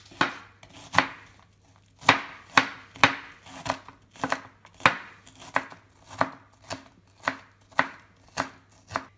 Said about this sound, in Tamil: வடைக்குனாலும் நம்ம வெங்காயத்தை இந்த மாதிரி பொடியாக நறுக்கிக்கலாம்.